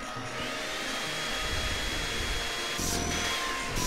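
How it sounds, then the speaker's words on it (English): Steady close whine of a vacuum cleaner working over pillows, a constant broadband roar that shifts slightly in pitch as the nozzle moves. "My pillows are getting vacuumed."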